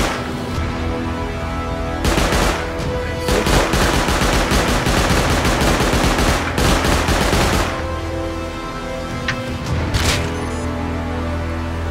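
An auto turret in the Rust survival game fires long rapid automatic bursts during a base raid, loud and close, with short pauses between volleys and little talk over it.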